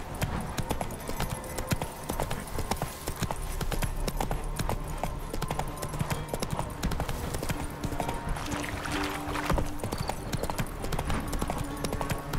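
Hooves of Roach, the horse in The Witcher 3, clatter in a fast continuous gallop, with a faint whinny mixed into dense game sound.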